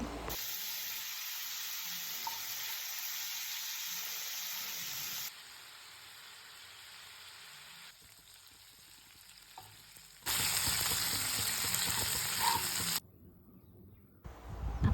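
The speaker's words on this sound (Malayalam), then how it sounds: "ഒരു പാൻ എടുത്തിട്ട് അതിൽ എണ്ണ ചൂടാക്കി കുറച്ച് കറിവേപ്പില ഇട്ട് അതിൽ കൂന്തൽ ഫ്രൈ ചെയ്യാൻ വെക്കാം" Squid frying in hot oil in a pan with curry leaves, a steady bright sizzle that drops quieter partway through, then flares loud again briefly before fading, with no talking.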